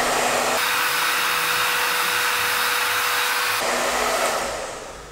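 A hair dryer blows steadily and loudly while hair is fluffed and dried, its airflow briefly shifting in tone partway through before easing off at the end.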